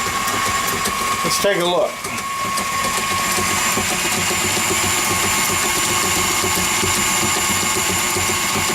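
An electric mixer whirs steadily on low-medium speed through banana bread batter in a home kitchen, a continuous close motor hum that dips briefly as a voice speaks over it.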